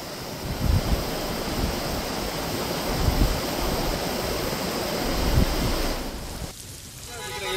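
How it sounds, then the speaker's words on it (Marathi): The flooded Surya river in Palghar during heavy monsoon rain, heard as a continuous broad roar of rushing water with steady surging swells, loud and close, fading near the end. "पालघरमधील मुख्य सूर्या नदीला पूर आलाय"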